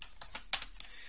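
Quick taps on a computer keyboard entering a cheat code while working on a Doom executable under Linux, about five distinct close keystrokes in an even rhythm, the fourth the sharpest, heard alone.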